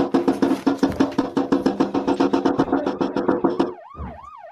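A police siren wails loud and close in a rapid, pulsing yelp that shifts into a slower rising and falling wail near the end.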